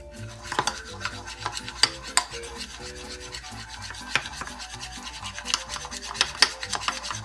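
Homemade slime of school glue and beads is stirred in a bowl, giving repeated wet scraping and clicking strokes of a utensil against the container, close and irregular, with no talking.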